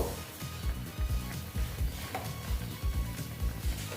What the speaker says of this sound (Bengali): দেখো চিনিটা একটু গলবে সেই জন্য একটু এটা আর একটু ফুটিয়ে নিচ্ছি